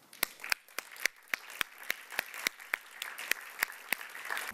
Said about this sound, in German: Begrüßen Sie auch mit einem grossen Applaus